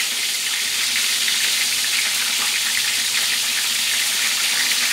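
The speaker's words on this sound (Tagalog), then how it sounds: "Deep fry ho to. Deep fry. Kailangan marami ang mantika." Chicken drumsticks deep frying in plenty of hot oil give off a steady, loud, dense hiss and crackle that holds evenly from start to finish with no voices.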